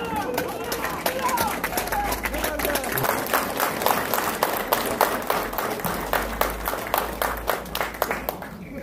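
Crowd at a police passing-out parade claps with distinct, rapid, fairly rhythmic hand strikes, steady and close, over a background of crowd babble and talking.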